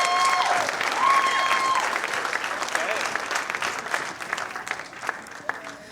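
Audience applause at the 2019 Crystal Apple awards ceremony, a sustained burst of clapping from a crowd for nominees and recipients that tapers off gradually over several seconds, with faint voices and whistles mixed in.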